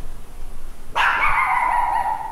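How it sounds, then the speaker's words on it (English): A security guard dog lets out a single loud, close bark that trails off into a ringing tail after a quiet background. "These places are patrolled by dogs now"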